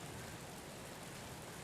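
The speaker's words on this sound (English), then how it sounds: "It's raining here in Amsterdam. It's raining really hard." Heavy rain pours down in Amsterdam, a dense, steady hiss of drops on surfaces, loud and continuous with no break for the whole stretch.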